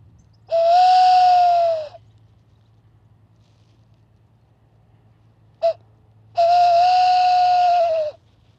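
A man imitates a male tawny owl's song with a fat, fluty whistled hoot: two loud, sustained hoots separated by a long pause and a brief short note, heard over a low steady hum.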